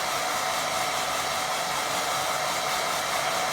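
A hair dryer blows over a wet watercolour lake painting with a constant, loud, even whir that continues alone for the whole stretch.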